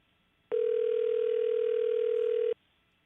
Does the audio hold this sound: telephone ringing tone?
yes